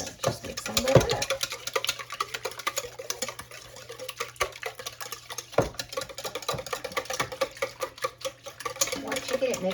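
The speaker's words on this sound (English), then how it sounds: "So just mix them a little up." Eggs and a tablespoon of mayonnaise being stirred together in a bowl, giving a busy, uneven scraping and tapping with occasional sharper clinks of the utensil against the bowl.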